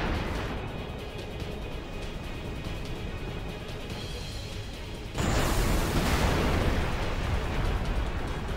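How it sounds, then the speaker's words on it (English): A tanker blows up in the video game Final Fantasy X HD: a sudden, loud, broadband blast hits about halfway through, cutting into steady game background noise and leaving a long, roaring rumble. "Normal gasoline will not create that big of an explosion to knock over a building."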